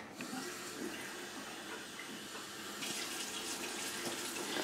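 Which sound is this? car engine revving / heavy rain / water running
water running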